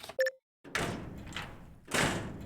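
A door opening in the video game Ion Fury, a short electronic beep followed by two loud sliding, rumbling door movements with a thud, close and without talk.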